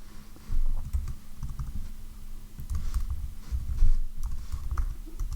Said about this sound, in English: And we'll type in here, writing HTML